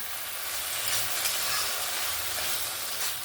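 Fish cooking in a frying pan, mixed with spices alongside fried bitter gourd and eggplant, sizzles steadily and loudly while being stirred continuously and up close, with no voices.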